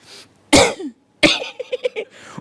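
A voice imitates coughing: two harsh, forceful coughs a moment apart, the second trailing into a few short throaty bursts, close and loud.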